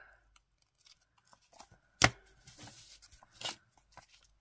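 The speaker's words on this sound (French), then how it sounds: "Je coupe ce qui dépasse." Scissors snipping off excess card paper during card making: a few sharp, close cuts, the loudest two crisp snips standing out among light paper rustling, with no talk.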